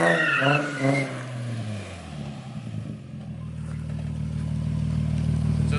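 A car with an open differential understeers with one wheel spinning: a droning engine note holds steady under a rough, scrubbing tire noise, building gradually louder toward the end with no talking.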